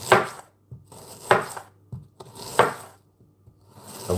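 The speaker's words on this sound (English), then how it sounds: "with onions, yeah, you chop them, right, as finely as you want them" A knife chops onions finely on a cutting board, with about four crisp, close knocks spaced roughly a second apart and short scraping slices between them, and no talking.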